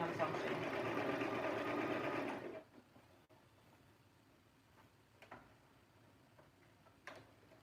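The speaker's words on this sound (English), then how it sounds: "I go back over it with the sewing machine" A sewing machine runs in one steady, dense burst of stitching while a wig is made, then stops after about two and a half seconds, leaving a quiet room with a few faint clicks.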